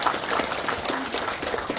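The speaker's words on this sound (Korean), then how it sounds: "여러분 박수 한번 주세요." A hall audience at a Korean commemorative report meeting for a Park Chung-hee statue claps loudly. The applause is a dense, steady crackle of many hands that fills the short stretch, with no speech over it.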